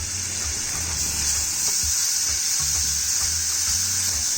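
Garlic paste and refined flour fry together in a pan with a steady, soft sizzle, close and continuous, with faint stirring and scraping underneath and no talking.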